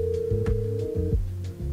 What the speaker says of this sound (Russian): При поступлении телефонного звонка, как ни странно, у нас в наушниках слышны гудки